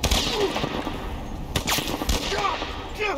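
Gunfire in The Last of Us Part 1 video game: a few sharp shots ring out over a busy, noisy game soundscape, with no clear rhythm and loud throughout.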